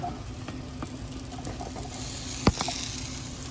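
Food fries in a hot pan in a van kitchen, a low continuous sizzle with scattered pops and crackles and one sharp louder spit near the end.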